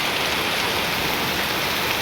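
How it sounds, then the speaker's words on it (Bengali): A heavy downpour of rain falls in a dense, constant hiss of countless drops, unbroken and even throughout, with no voices. "মুষলধারে বৃষ্টি পড়ছে।"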